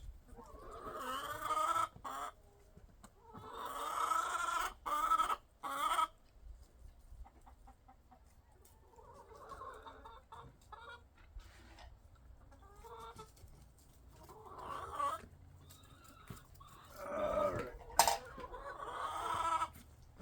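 Several chickens cluck and squawk close by in a backyard on an Oregon homestead in irregular bursts, with quieter stretches between and a sharp squawk near the end.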